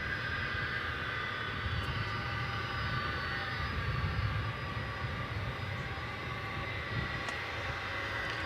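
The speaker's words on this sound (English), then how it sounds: "We're swinging around now to capture the arrival of American 2046 from San Jose." Airliner arriving at DFW Airport, an American flight from San Jose, heard as a steady, continuous engine roar with broad rumble throughout, moderately distant and unbroken, with no talking.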